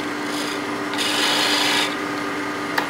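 Wood lathe spinning a two-piece wooden yo-yo, with a steady hum and a rasping scrape that swells for about a second as the tool bites.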